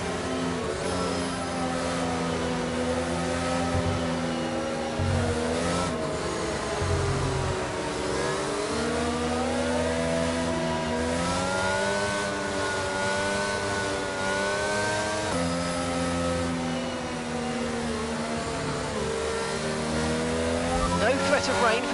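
Car engine from a PS4 racing video game, revving and accelerating in repeated rising and falling pulls. The engine stays steady in the background while a commentator talks over it throughout.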